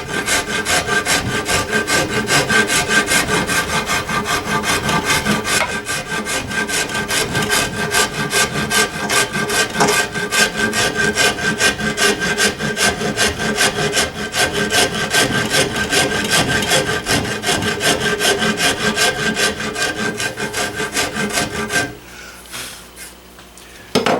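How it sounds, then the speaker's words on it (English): A coarse wood rasp works a gunstock at close range with a loud, steady rhythm of scraping strokes for about twenty seconds, then stops abruptly, no voices. "you can see I'm not working up to that line yet with this coarse rasp."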